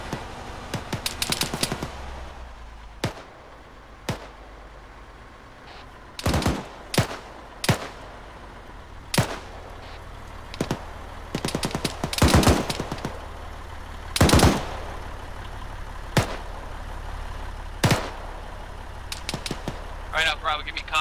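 Arma 3 gunfire during infantry squad training: scattered single shots and short bursts crack at irregular intervals, some sharp and near, others duller, over a steady low rumble with talk running underneath.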